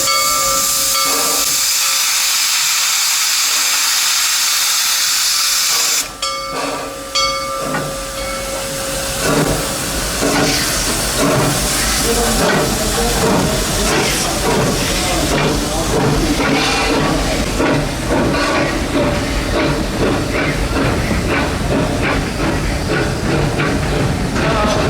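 A steam train pulling into a station at Busch Gardens, with a long loud hiss of steam at first, then a run of rhythmic chuffs and mechanical clatter, with crowd voices faint in the background.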